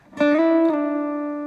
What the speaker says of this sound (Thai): ต่อไปสาย3ช่องที่7สไลด์ไปช่องที่ 9 แล้วก็สไลด์กลับไปช่องที่7นะครับ จะได้เสียงนี้นะ